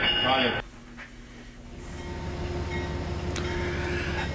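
An Amtrak train rolls through Sunnyside Yard in 2007, a steady low rumble of moving railcars building after a brief louder burst at the start, with a faint high squeal later and a voice speaking over it.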